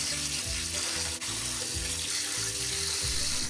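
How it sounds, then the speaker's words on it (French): Cold tap water runs steadily over blanched pork belly in a colander as it is rinsed, a continuous close splashing stream with a faint clatter partway through. "et on rince le tout à l'eau froide pour rincer les impuretés"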